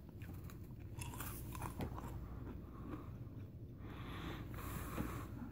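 Chewing spearmint candy-coated gum from a 2014 U.S. military MRE, with steady close wet crunching and mouth sounds continuing throughout, no talking.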